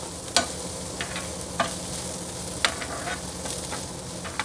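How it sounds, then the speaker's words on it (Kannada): Spiced tempering sizzles on a hot tawa for street-style spot idli while a spatula stirs and scrapes it, a steady fry broken by several sharp metallic scrapes at irregular intervals, close and with no voices. "ಇದು ತವಾ ಮೇಲೆ ಒಗ್ಗರಣೆ ಹಾಕೋದ್ರಿಂದ ಸ್ವಲ್ಪ ನೋಡಿಕೊಂಡು ಹುಷಾರಾಗಿ ಮಾಡಬೇಕಾಗುತ್ತೆ"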